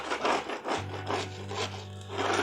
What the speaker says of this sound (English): and then I come along and scrape it